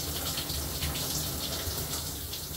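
Shower water runs in a steady, close, hissing gush for a cockatoo's bath, with no voices.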